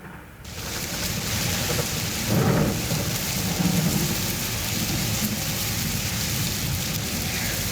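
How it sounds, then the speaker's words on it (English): Steady heavy rain pours down with low rumbles of thunder rolling underneath, loud and continuous throughout, as a sound effect in a school stage play. "And it's raining."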